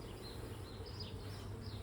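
Honeybees buzz steadily in an open hive with clustered balls of bees near the top, a low continuous hum with faint higher whine, close and even throughout.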